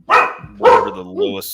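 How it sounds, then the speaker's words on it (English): A pet dog named Arya barks twice in sharp, close bursts, followed by a short whine, while a person talks nearby. "That's my dog."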